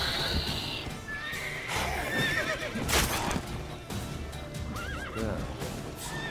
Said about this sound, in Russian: Лошадь, ты совсем очумела.